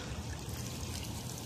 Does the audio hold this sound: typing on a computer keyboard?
no